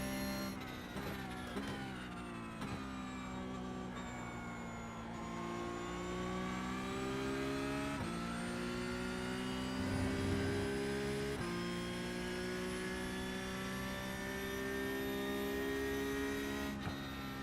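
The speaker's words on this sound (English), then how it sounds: "so I can hear you over my engine." A Porsche Cup race car engine in iRacing drones steadily and loud throughout, its pitch climbing and dropping with repeated gear shifts and revving, heard alone without talk.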